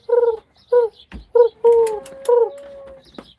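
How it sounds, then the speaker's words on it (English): A dove coos nearby outdoors, giving several soft, hollow, rounded calls in an uneven rhythm with short pauses between them, and a few faint clicks and rustles in the background. "But the dove's still making noises."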